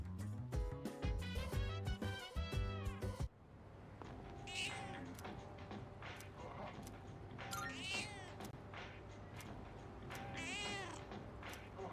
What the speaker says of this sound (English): First, we're gonna go feed the cat again.